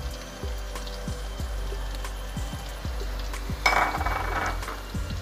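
Onions and carrots frying in a pan for Nigerian fried rice give a steady close sizzle, broken by regular scraping strokes of stirring and a brief louder hiss near the end.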